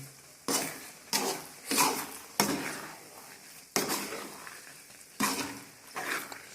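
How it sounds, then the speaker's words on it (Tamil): A spoon scrapes and clatters around a pan of vermicelli in six or so rhythmic strokes, each a sharp scraping sweep with faint sizzling between, close by. "சேமியாக கிண்டுவது எப்படி நல்லாவே கிண்டுறோம் பாருங்கள்"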